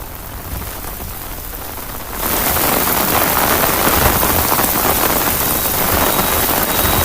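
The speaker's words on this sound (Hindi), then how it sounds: "जहां पर तेज बारिश हो रही है" Heavy rain pours down in Ayodhya, a steady loud hiss of rainfall that swells sharply after a quieter start and holds as a dense, continuous roar.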